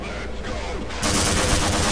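Loud, dense gunfire from a weapon in the video game Half-Life erupts midway and continues as a sustained harsh burst of rapid shots.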